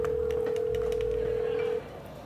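A steady electronic telephone tone holds for almost two seconds of a phone call, then cuts off, leaving quiet line hiss.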